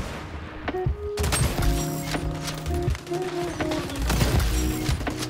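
Repeated sharp sniper rifle shots crack out at irregular intervals over XDefiant game background noise and music tones, fairly loud and close.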